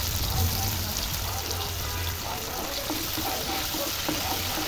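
Two teaspoons of cumin seeds sizzle and crackle in hot oil while tomato biryani is being cooked, a steady, dense frying hiss with faint pops throughout.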